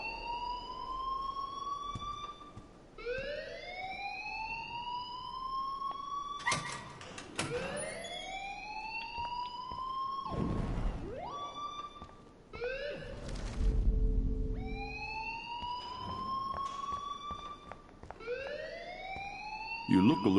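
An electronic alarm in the video game Life is Strange wails in rising, repeating sweeps, loud and sustained, interrupted by bangs and clattering, with voices talking over it at times.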